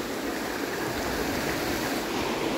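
Icy river water rushes and swirls around bare feet in a steady, close, hissing wash with no pauses or voices.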